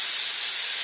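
Pressurized gas escapes from a tank in one continuous, loud, bright hiss lasting under a second, steady throughout with no talk.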